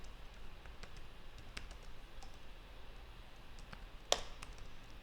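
Computer keyboard typing SQL code, a sparse run of soft, quiet key clicks with one sharper tap near the end, close and alone.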